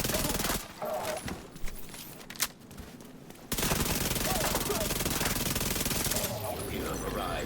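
Enemy gunfire in The Division 2 pours in as rapid machine-gun bursts and scattered shots. It thins out partway through, then returns as a dense, steady barrage, with someone speaking now and then.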